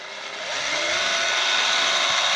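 A drill running a Black & Decker weed whipper to husk corn revs up after half a second into a steady, high, buzzing motor whine that holds loud and close to the end.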